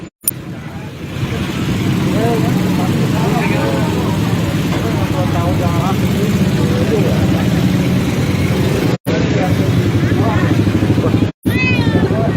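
A cat mewing during a rescue after the Plumpang fuel depo fire in North Jakarta gives out several short, rising meows through a loud street scene, with traffic rumble and voices talking throughout.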